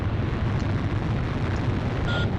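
Bombing explosions rumble through a burning city during an air mission in the flight combat game Ace Combat Zero, a continuous deep roaring wash of blasts that stays loud and dense throughout, with a faint tonal beep near the end.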